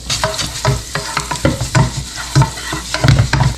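Garlic sautés in butter in a pot with loud close sizzling and repeated scraping stirs in an uneven rhythm, no talking.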